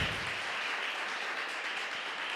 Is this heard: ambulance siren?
no